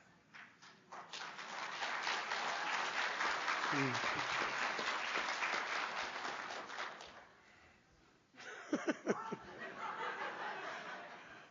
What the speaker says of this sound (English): I have no idea why you all just clapped.